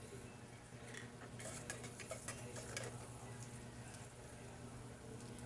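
Ginger sizzling in melted margarine in a pan while being stirred, a steady low frying hiss with faint scraping clicks throughout, no talking.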